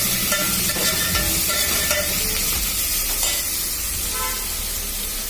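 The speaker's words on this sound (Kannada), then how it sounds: "ಇದು ಮಸಾಲೆ ಫ್ರೈ ಆಗ್ತಾ ಇದೆ." Masala cooks with browned onions and mutton in a pan, making a loud, dense, unbroken frying hiss close up, with no voices.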